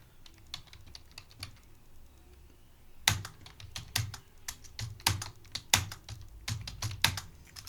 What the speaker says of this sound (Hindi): कीबोर्ड से अल्ट के साथ सी को प्रेस कीजिएगा और यहाँ पर आपको लिखना है